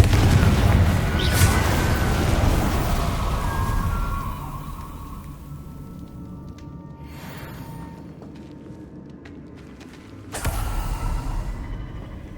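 A Confringo blasting curse goes off in Hogwarts Legacy, a loud booming burst that decays into a rumbling tail, then a second sharp blast hits near the end.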